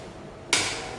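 A Carlton KH-800 electric coffee grinder switches on about halfway through and jumps from near quiet to a steady, fairly soft whirring hiss that runs to the end.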